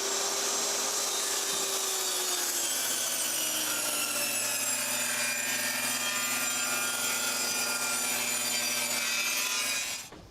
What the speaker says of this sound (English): We're going to do our bevel on the back side of it,